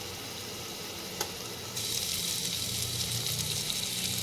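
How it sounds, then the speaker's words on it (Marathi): Pulao masala, coriander powder, turmeric and garam masala sautéed in hot oil. After a sharp tap, the close, steady sizzle swells suddenly partway through and holds loud to the end, with no talk. "आणि हा पुलाव मसाला घालते आणि चांगलं परतून घेते"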